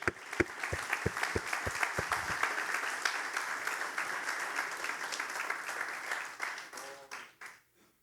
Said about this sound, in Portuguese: Vamos aplaudir o Espírito Santo, ele está aqui.